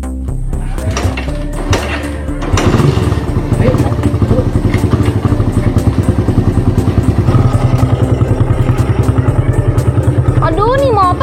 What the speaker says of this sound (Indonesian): Aduh, nih motor butut banget sih.